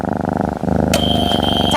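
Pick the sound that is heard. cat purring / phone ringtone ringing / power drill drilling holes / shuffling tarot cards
cat purring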